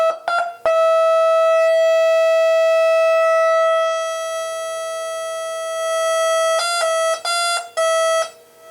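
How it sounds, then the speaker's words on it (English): Eurorack synthesizer run through a DIY OTA voltage-controlled filter kit with the cutoff turned all the way down: a loud, steady buzzing tone rich in overtones, sustained for several seconds, then retriggered in quick stabs near the end. "Now we'll put her in the rack and see how it sounds. We'll turn the filter all the way down."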